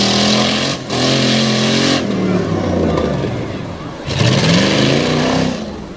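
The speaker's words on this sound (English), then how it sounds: "Love the design of this truck and love the sound this motor makes." Engine of a Jeep Grand Cherokee ZJ racing at a dirt oval, loud and close, with steady revving that dips briefly then swells again under crowd and commentary noise, people talking over it.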